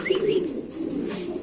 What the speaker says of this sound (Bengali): এখানে আছে একদম নাম্বার 1 কবুতর, একদম ব্র্যান্ড